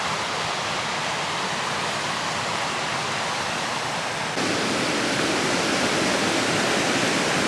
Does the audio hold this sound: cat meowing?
no